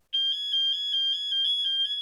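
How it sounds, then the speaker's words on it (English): A newly installed alarm system on a camper van sounds loudly up close, a rapid pulsing electronic beep that repeats evenly and alone for about two seconds. "we finally installed a new alarm system on Vali, and if you're wondering what the alarm sounds like"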